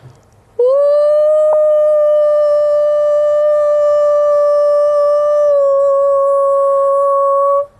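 A person imitating a long wolf howl with the voice, one sustained steady tone held for about seven seconds, loud and close, then cut off.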